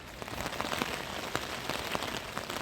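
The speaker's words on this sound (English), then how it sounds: "It's raining so much, and it's so windy" Heavy rain pours steadily on surfaces outdoors during a windy storm, a dense continuous hiss with scattered louder drop impacts and no voices.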